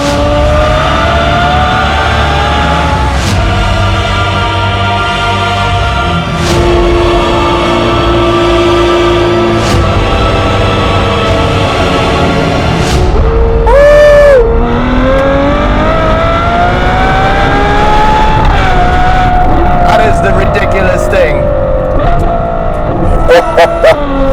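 Novitec-tuned Ferrari 812 N-Largo V12 revving loud and close, a sustained high-pitched engine howl with climbing and falling revs and sharp throttle blips, continuous throughout.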